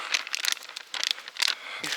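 A plastic bag of carp fishing groundbait and millet being handled and poured, giving several short, close crinkling and rustling bursts separated by brief pauses.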